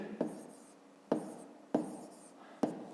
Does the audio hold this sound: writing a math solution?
yes